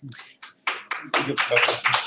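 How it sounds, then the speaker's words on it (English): A small audience at a live talk show in a coffee shop claps briefly, scattered at first and then fuller, close by and loud. "Y'all can clap"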